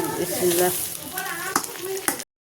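Sliced onions and red capsicum frying in a pan, sizzling steadily up close while being stirred, with a few sharp clinks of a utensil against the pan.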